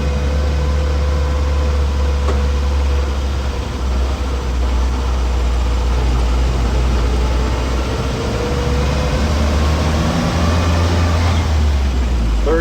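A 1959 Land Rover Series II 109-inch pickup drives in high range through the gears, its engine a loud, steady drone heard from inside the cab, with a voice talking faintly beneath.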